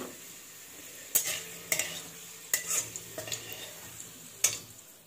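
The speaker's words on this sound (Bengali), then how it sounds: "আলু ভাজাটা হয়ে এসছে অলমোস্ট গ্যাসটা নিভিয়ে দিই" Potatoes frying in a pan on a gas stove, a low steady sizzle broken by several sharp clinks and scrapes of stirring spread through the clip, with no talking.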